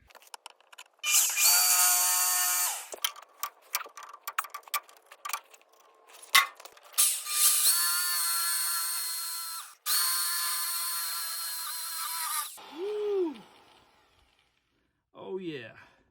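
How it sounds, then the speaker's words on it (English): A power drill bores holes into a metal bracket for mounting the bed on a Tri-Five pickup restoration, in several loud whining bursts of varying length separated by short pauses, the motor spinning down at the end. "I'm going to just go ahead and drill the holes into the bracket"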